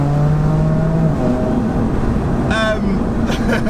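A 700 BHP meth-injected BMW M4 engine pulls hard under load, a steady loud drone heard from inside the car with rising tones and a brief burst near the end.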